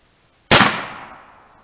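A single sharp report from a .50 caliber PCP air rifle firing at a target, a sudden loud crack followed by a decaying tail over about a second, with no talk.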